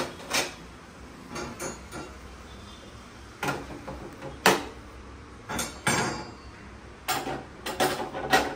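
Pots and plates being taken out in a home kitchen, with scattered clanks and clatters of metal and ceramic dishware at irregular intervals, fairly close.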